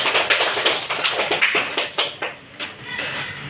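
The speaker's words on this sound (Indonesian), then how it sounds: "tepuk tangan dulu untuk Rizka Aprilia" Audience applause following a classroom presentation, a short burst of distinct rhythmic hand claps, fairly close and moderately loud, tapering off toward the end.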